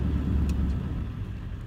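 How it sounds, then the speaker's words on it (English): Big diesel truck idling as it is being parked, a steady low rumble close by with no talk. "Now to park this big ass diesel truck somewhere."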